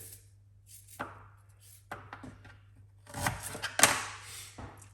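Fresh ginger is cut into pieces on a board with a few sparse, crisp knife chops and light knocks, close and fairly quiet, with no speech.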